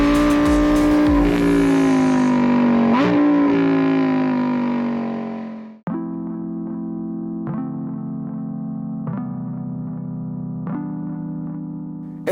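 A Lamborghini Huracan STO's 640-horsepower engine revs hard and climbs in pitch, cuts abruptly at a shift, then pulls again with sharp crackling pops at each gear change, loud and close throughout.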